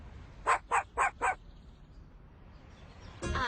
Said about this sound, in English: The dog is singing?